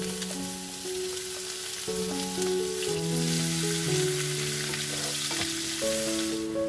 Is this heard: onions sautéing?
yes